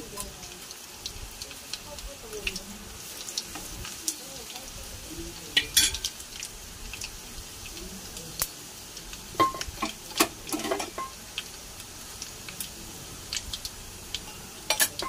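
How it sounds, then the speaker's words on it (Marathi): Crushed garlic fries in a pan for Maharashtrian zunka, a low steady sizzle with occasional metal spoon clinks and scrapes, while a person talks at times. "लसूण चांगला लाल होऊ देऊ"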